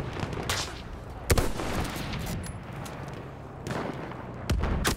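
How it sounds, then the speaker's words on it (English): Artillery strike in the video game Battlefield 1, heard as several loud, sharp blasts and booms spread over a few seconds against steady battlefield noise, with no talking. "Enemy coordinates have been sent to our artillery."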